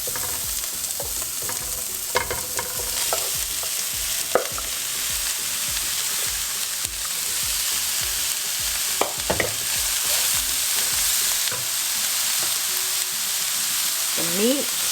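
Onions and green chilies sizzle steadily in a hot pan for a lamb keema samosa filling, with a constant frying hiss broken by occasional scrapes and clicks of stirring.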